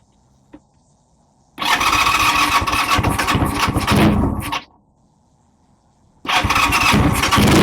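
A 1979 Kawasaki KZ400 motorcycle engine cranks and catches in a loud, close burst lasting about three seconds, cuts out to near silence, then starts again firmly.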